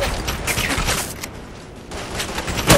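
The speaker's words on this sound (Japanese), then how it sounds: "激しい銃撃を受けている" Heavy gunfire in the war game Operation Flashpoint: Red River: dense, overlapping rifle bursts crackle loudly almost without pause, easing briefly in the middle before building again.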